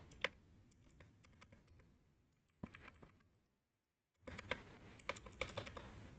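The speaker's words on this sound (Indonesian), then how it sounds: "Ini keyboard saya ada sedikit gangguan ya. Tidak bisa delete keyboard saya nih." Quick typing on a computer keyboard with a faulty delete key: bursts of crisp keystroke clicks, a short silent gap, then a denser run of taps, fairly quiet and with no speech.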